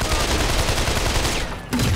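Rapid gunfire from the video game Sleeping Dogs rattles on in a dense, loud burst that briefly drops out before resuming.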